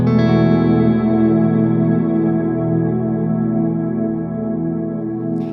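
Guitar chord rings out through a Big Sky reverb pedal stacked with an Immerse Mark II reverb, a lush, sustained wash that slowly decays over several seconds with no voices.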